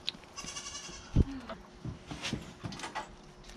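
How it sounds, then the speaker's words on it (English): Goat bleating close by, a short nasal bleat rising out of scattered rustling and handling noises, with a person murmuring softly in the background. "You are a messy goat."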